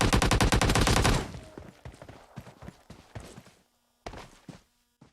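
Rapid automatic gunfire in the PUBG Mobile battle royale game, a loud burst of close shots followed by scattered single reports and footsteps, then two short bursts after a pause.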